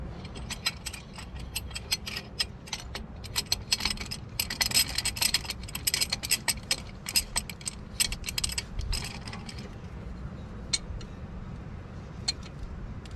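A brake caliper piston is compressed back for new pads during a DIY brake change, giving repeated close ratcheting and mechanical clicking strokes in an irregular rhythm that ease off near the end, with no talk.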